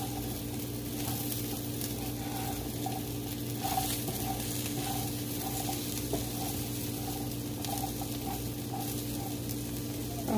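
Quinoa and chickpeas cook in a pan with a steady, even sizzle and gentle bubbling, close by and unbroken throughout, with no talk over it.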